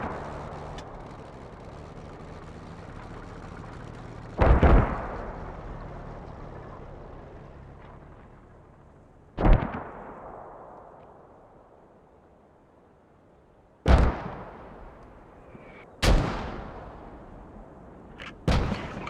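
Anti-tank guns firing in a wartime battle video game near a row of houses: four or five heavy, booming shots spaced several seconds apart, each with a long rolling decay, over a low background rumble.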